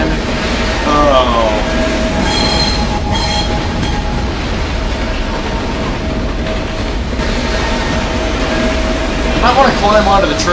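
Train rolling along rails in Condemned: Criminal Origins, a loud steady rumble with squealing wheel tones and metallic clatter running throughout, close and continuous.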